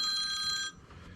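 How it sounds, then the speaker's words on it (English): A work phone rings in a workshop, a steady electronic ringing tone that holds for under a second and then cuts off, leaving low background noise and no talk. "And this one, the Real Job work phone."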